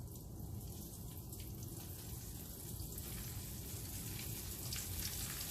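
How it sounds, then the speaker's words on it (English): A steady, close sizzle and crackle of meatloaf meatballs browning in a hot pan, continuous and fairly loud throughout. "put some down in here and they'll start frying on you"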